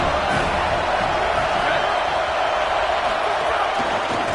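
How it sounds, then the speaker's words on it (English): Loud, dense roar of a college football stadium crowd, steady and unbroken throughout, with no distinct voices rising above it. "This crowd trying to make life miserable for this offense."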